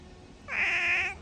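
A pet cat lets out one clear, drawn-out meow lasting about half a second, close and loud against a quiet room.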